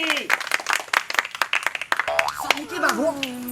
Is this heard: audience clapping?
yes